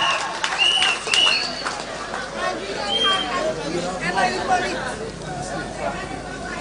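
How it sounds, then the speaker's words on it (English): An outdoor crowd at a St. Lucia political rally claps and chatters, bursts of applause mixed with whoops and murmuring voices, fairly near and moderately loud. "Women, put your hands together and give yourself"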